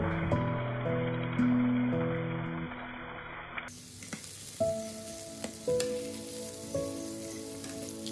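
Whole spices, cinnamon, cloves, cardamom and bay leaves, frying in a pan for egg biryani: after a stretch of soft music, a bright hissing sizzle starts abruptly and carries on close, with a few light knocks.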